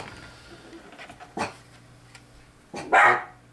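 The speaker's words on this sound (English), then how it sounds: "Sorry about that, stupid dogs." Dogs, including a Pekingese poodle, bark indoors in two loud, sharp bursts with softer whimpering and shuffling between them.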